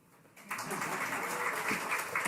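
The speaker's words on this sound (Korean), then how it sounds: "박수 좀 많이 받고 싶어서요" Church congregation breaking into applause after a quiet moment, a sudden dense clapping wash that continues steadily to the end.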